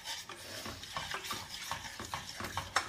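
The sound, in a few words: stirring golden milk with coconut oil while it warms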